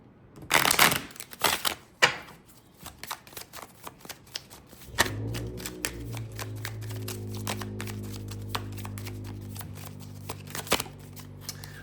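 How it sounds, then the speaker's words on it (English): Tarot cards are shuffled rapidly, a crisp flurry of riffling clicks and flutters, with a few louder slaps at the start and a low hum underneath later. "Let's get a good shuffle really fast."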